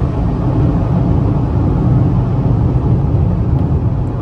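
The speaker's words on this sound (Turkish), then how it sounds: "Araba iyi gidiyor." Steady, loud low rumble of a car cruising at speed, heard from inside the cabin, engine and road noise continuous with no talk.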